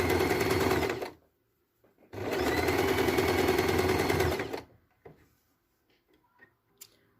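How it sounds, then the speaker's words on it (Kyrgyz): Sewing machine stitching along the edge of a patchwork quilt, running in two loud, steady bursts of rapid stitching separated by a pause, then stopping, with a few faint clicks and handling noises afterward. "Мына эң чекесин тегиздеп тигип атабыз."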